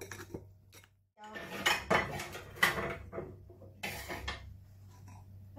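Chicken being stirred into caramelized sugar in a metal pan: a spoon clanks and scrapes loudly against the pan in several bursts, close by, with no talking.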